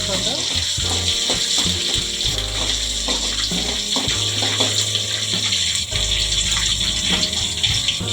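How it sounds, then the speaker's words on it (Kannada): Chopped green chillies fry on a low flame for an eggplant stir-fry, a loud, close sizzle with watery bubbling and some scraping and stirring knocks throughout. "ಒಂದು ಮೂರು ಹಸಿಮೆಣಸಿನ ಸಣ್ಣದಾಗಿ ಕಟ್ ಮಾಡಿ ಹಾಕೋತಾ ಇದ್ದೀನಿ ಸ್ವಲ್ಪ ಫ್ರೈ ಮಾಡ್ಕೋಬೇಕು ಸಣ್ಣ ಉರಿ"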